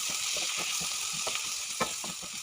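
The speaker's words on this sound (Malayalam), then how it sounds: "തക്കാളിയും പച്ചമുളകും കൂടെ ഇട്ടിട്ട് നന്നായിട്ടൊന്ന് വഴറ്റിയെടുക്കുക" Onion, curry leaves, tomato and green chilli sauté in a pan for a karimeen pollichathu fish masala, giving a steady close sizzle with soft scraping stirs.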